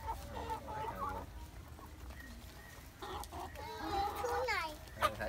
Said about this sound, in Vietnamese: Gà với bồ câu ăn kìa con.